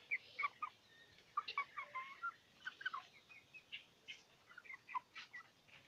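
Native chicks chirping, a run of short bright peeps repeating irregularly and fairly close, quiet overall with no talk.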